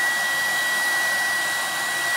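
A hair dryer blows close and loud in a steady, unbroken rushing drone as it dries hair that is kept rolled up.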